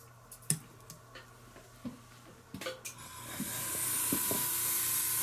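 Tamiya khaki paint sprayed from an airbrush for model groundwork, a soft steady hiss that rises and holds for the last couple of seconds after a few small taps and clicks.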